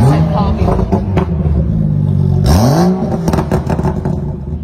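A BMW concept car's engine is revved once, the pitch sweeping sharply up and easing back down, loud and close amid a busy, noisy background.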